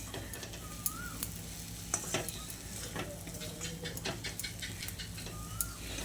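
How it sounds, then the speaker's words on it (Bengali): Masala okra (bhindi) is stirred in a pan, a spatula scraping and tapping in a steady irregular rhythm over a soft sizzle, close and moderately quiet, with no talking. "এবার আবারও সব কিছুকে একসঙ্গে ভালো করে মিশিয়ে নিচ্ছি।"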